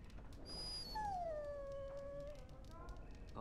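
A dog whines in Dragon Age Origins, a long high tonal whimper that slides downward and then lingers, fairly clear above a steady bed of game ambience.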